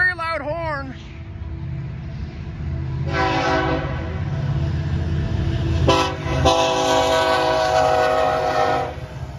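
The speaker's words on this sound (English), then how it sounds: "Not a very loud horn." Norfolk Southern coal train horn, a fairly soft sustained blast with a brief break, over the steady low rumble of the passing train; a short voice is heard at the start.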